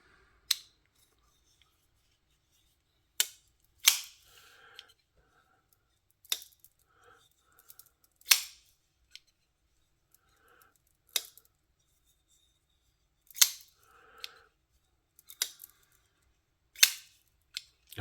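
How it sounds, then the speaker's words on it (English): TWOSUN TS508 folding knife with a ceramic detent ball being flicked open and shut, giving sharp isolated clicks and snaps spaced a few seconds apart against near silence. "So that detent ball is cutting now."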